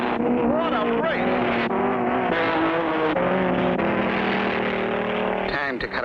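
Cartoon race cars speed down a straightaway, their engines droning and whining steadily from start to finish while a narrator talks over the roar.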